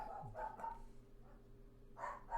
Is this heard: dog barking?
yes